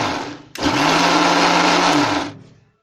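A mixer blender whirs loudly for about two seconds while churning a homemade ice cream mixture, starting abruptly, holding a steady high buzzing drone, then winding down to silence.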